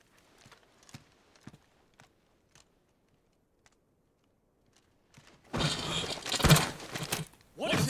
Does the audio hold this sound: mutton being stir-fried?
no